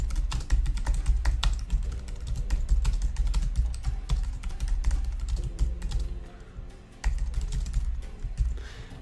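Rapid, steady keystrokes clatter on a computer keyboard close to the microphone, with a brief pause partway through and no talking.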